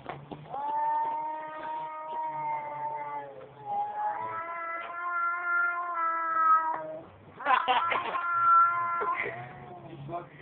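Cats fighting trade long, drawn-out yowling caterwauls that rise and fall, one howl following another, ending in a harsher burst of overlapping cries, close and clear.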